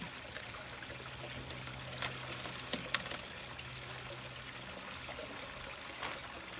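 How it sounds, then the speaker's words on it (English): Water from a small disposable pump runs through a Dream Mat power sluice, a faint, steady trickle and splash of flowing water with a few sharper drips, heard alone. "this little disposable pump seems to be moving quite a bit of water."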